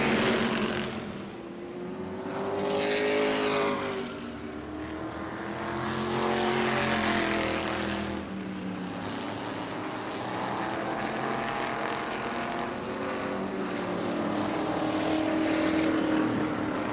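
Race cars roar past on the New Smyrna World Series track, engines rising and falling in loud sweeping passes one after another, a continuous blend of near and distant motors.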